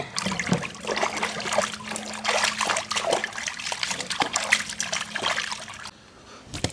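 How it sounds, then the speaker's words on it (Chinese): Lamb ribs rinsed under cold running water, a steady trickle and splash of liquid over meat with occasional sloshing, close and continuous before cutting off near the end. "再用凉水洗一下。"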